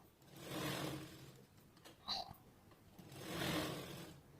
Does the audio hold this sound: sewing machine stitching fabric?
yes